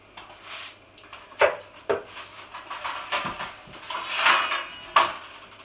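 Metal bakeware clanks and scrapes as a cheese and onion pie on a baking sheet slides into a home oven, a handful of close, sharp knocks spread across a few seconds.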